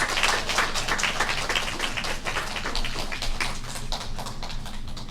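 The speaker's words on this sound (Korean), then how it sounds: "박수 한번 더 쳐주시기 바랍니다" A church congregation claps in dense, steady applause that fades slightly toward the end, with no talking.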